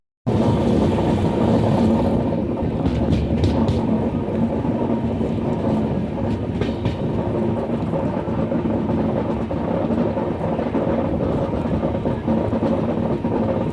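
Inside the Kamakhya–Gaya Express as it runs slowly between stops: a steady, dense rumble of wheels and carriage noise with faint rattles and no voices.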